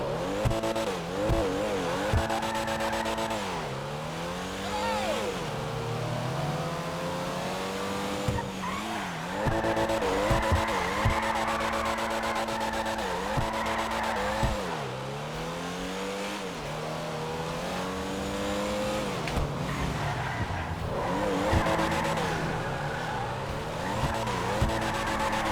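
Car in GTA 5 Online racing hard, the engine revving up and down through repeated gear shifts with intermittent tire squeals, loud and continuous with no talking.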